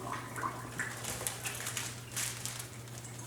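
Cold water runs steadily from a kitchen sink tap, a close, continuous hissing splash with faint clinks and a low electrical hum beneath, no talking.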